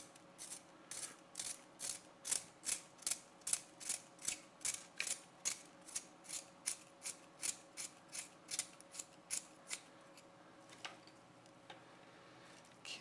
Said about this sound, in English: Let's see how it sharpens a triangular pencil.